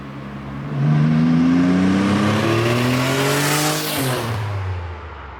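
A Nissan 300ZX Turbo with its exhaust cutout open revs up hard, a loud close engine note climbing steadily for a few seconds, then dipping as the throttle eases and the revs fall away.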